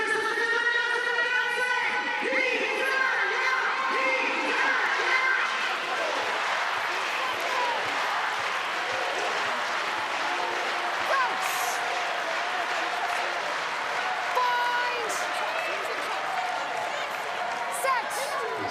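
A big crowd at a women's Six Nations rugby match between Italy and Wales in Parma fills the stadium with a steady loud din of cheers, whistles and shouts, with voices talking over it.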